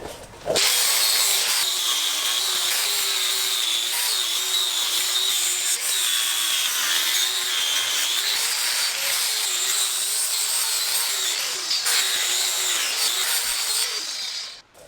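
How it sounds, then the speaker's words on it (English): A flap disc on an angle grinder works a weld on a totaled 2012 GSXR 1000 motorcycle frame, producing a loud, continuous abrasive whine with slight wavering pitch for about fourteen seconds, close and uninterrupted. "Now I'm gonna take the flap disc and hit it."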